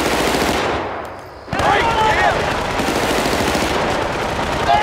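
Dense, loud machine-gun bursts rattle almost continuously during a firefight in the shooter game Battlefield: Bad Company 2, briefly dipping before the rapid fire resumes, with a voice shouting over it.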